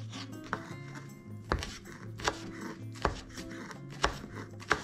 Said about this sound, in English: And you can do some chopping.